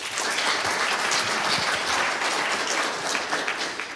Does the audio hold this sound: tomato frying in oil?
no